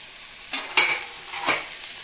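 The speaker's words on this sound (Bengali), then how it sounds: "সবজিগুলো না ডালের মধ্যে ভেজে নেব" Vegetables such as potato, pumpkin, carrot, eggplant, beans and peas fry with lentils in a pan. A steady close sizzle is broken by a couple of scraping stirs.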